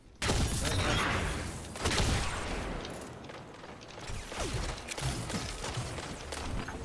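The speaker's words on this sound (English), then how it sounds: "He's shooting me." Gunfire in a multiplayer video game match rattles in loud, dense bursts of rapid shots mixed with mechanical clatter, running almost continuously.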